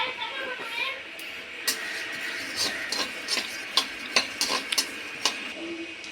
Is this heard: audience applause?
no